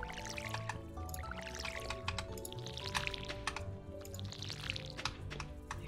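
Watering crops in the Stardew Valley video game, a string of soft splashing and dripping water effects repeating over light background music, quiet and with no talk.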